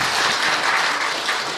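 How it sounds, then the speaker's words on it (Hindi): A brief burst of steady audience applause, dense and even clapping from a crowd filling the room with no voices on top. "इसके लिए तो ताली बजनी चाहिए"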